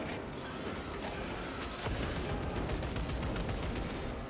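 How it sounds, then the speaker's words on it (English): Frag grenade thrown and exploding amid continuous loud gunfire and combat noise in Warhammer 40,000: Space Marine II, the blast swelling near the middle of a dense, unbroken battle din. "Throwing frag grenade."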